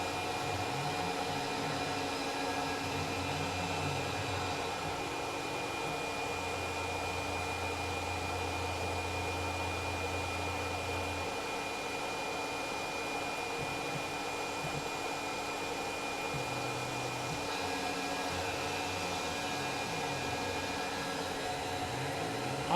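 A Tormach PCNC 1100 CNC mill cuts a part in a steady, close, even machine drone. Spindle and cutting tones hold constant for the whole stretch, with no voices.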